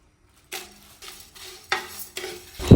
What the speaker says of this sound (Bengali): এর জন্য আমরা একটা প্যানে ভেজে নিচ্ছি আস্ত পাঁচফোড়ন ও শুকনো মরিচ